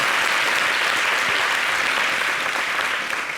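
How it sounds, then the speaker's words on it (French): A television studio audience applauds loudly and steadily, a dense wash of clapping that stays at full strength throughout before easing slightly near the end. "Applaudissez-vous."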